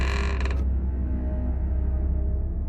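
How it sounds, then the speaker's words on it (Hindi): A single creaking door swings open in a haunted house, a drawn-out, groaning creak lasting a couple of seconds, heard close and alone. "फिर अचानक मरियम के कमरे का दरवाजा खुला।"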